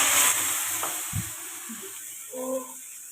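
Milk poured slowly into a hot pan sets off a hissing sizzle that starts strong and then fades to a quieter simmer, with faint voices and a brief clink in the background.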